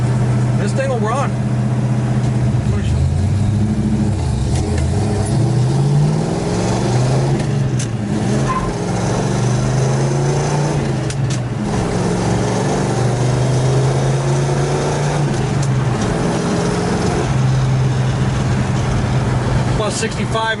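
A 1970 Dodge Super Bee with a 383 V8 pulls hard on the road, its loud, rumbling engine note rising and falling steadily throughout while someone talks over it.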